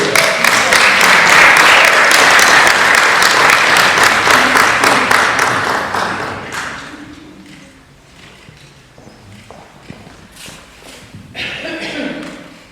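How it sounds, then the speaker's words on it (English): An audience applauds to welcome a guest for a Connect 4 game at a church gathering: dense clapping for about six seconds, then it thins to scattered claps and shuffling. "So let's give Dave a round of applause."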